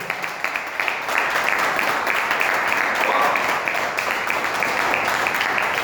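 A church congregation applauding during a Portuguese-language sermon: steady, dense clapping from many people that holds at an even level throughout.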